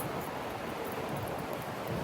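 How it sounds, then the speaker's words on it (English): Steady, broadband wind rushes continuously outdoors, buffeting the microphone with a dense low roar and no voices. "It's windy as hell."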